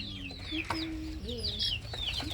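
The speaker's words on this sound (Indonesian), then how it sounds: "di sini ada ayam pitik, anak ayam" Chicks on a poultry farm, kept apart from the mother hens, peep in quick overlapping high chirps. The chirps are close and continuous over a low farmyard hum.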